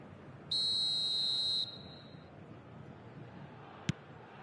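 Referee's whistle in the eFootball 2025 football video game, blown for offside: one clear, shrill blast lasting about a second, followed by quiet ambience and a single short click.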